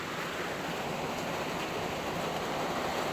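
Heavy rain falls steadily outdoors in the afternoon, a constant, even, broadband hiss without breaks and with no voices.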